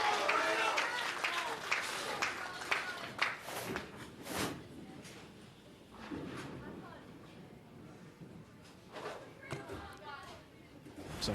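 An audience at a girls' state high school bowling championship applauds and cheers after a spare conversion, a scattered wash of claps and crowd noise beneath a commentator's continuous talk.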